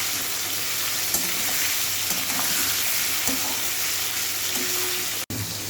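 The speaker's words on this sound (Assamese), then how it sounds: "তেল গৰম হৈ গৈছে। এতিয়া মই চিকেনখিনি অলপ ভাজি ল'ম।" Chicken pieces fry in hot oil for a chicken curry, a loud, even sizzle that holds steady throughout with faint stirring ticks and one abrupt sharp knock near the end, no talking.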